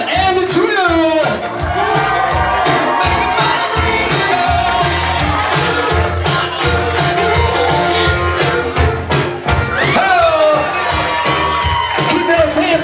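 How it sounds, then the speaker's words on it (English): A lively crowd at a performance show cheers, whoops and claps continuously and loudly, with shouting voices mixed in and an announcer talking over the noise throughout. "Keep those hands clapping for our next trio"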